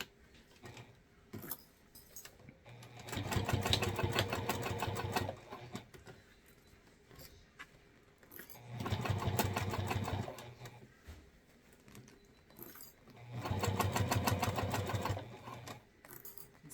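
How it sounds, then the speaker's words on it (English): A sewing machine stitches down the seam of a handbag in three separate runs of fast, steady mechanical whirring, each a few seconds long. Quiet pauses separate the runs, and no one speaks. "Sew it all the way down."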